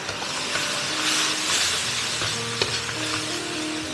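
Pork ribs with bitter melon stir-frying in a wok as a thickened sauce is poured in, giving a loud, steady sizzle with scraping stirs, close and continuous with no talk.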